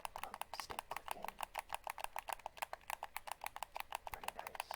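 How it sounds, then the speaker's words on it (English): Analog sticks on a PS5 DualSense game controller are clicked rapidly, a steady stream of small, close plastic clicks at near-even rhythm, soft and alone. "Stick clicking."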